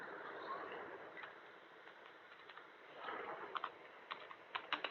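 Quiet, steady keyboard typing while C++ code is entered, with soft rapid keystrokes that build into louder, sharper clusters of taps toward the end.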